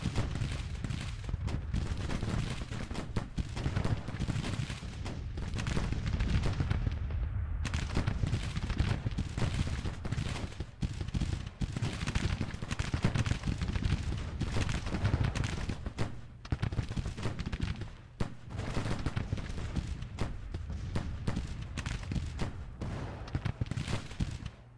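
Dense, continuous battlefield gunfire in the Civil War strategy game Grand Tactician, with rifle volleys and artillery booming together in a loud, unbroken roar for the whole stretch.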